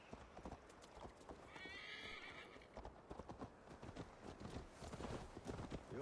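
Horse hooves clip-clop steadily at a walking pace in Assassin's Creed Valhalla, with a brief whinny partway through, all under ambient game sound and music.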